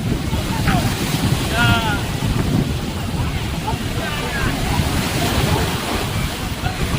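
Sea waves at Puri beach wash in a continuous loud surf, buffeted by heavy wind rumble on the microphone, with faint voices calling in the background.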